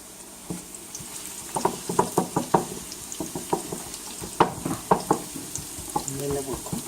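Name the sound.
onions sizzling in a pan, stirred with a wooden spoon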